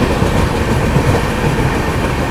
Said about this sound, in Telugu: పైగా మనకి ఫ్లాట్ వీల్ పడితే సౌండ్ వస్తానే ఉంది అలాగా